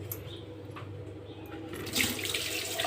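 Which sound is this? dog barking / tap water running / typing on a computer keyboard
tap water running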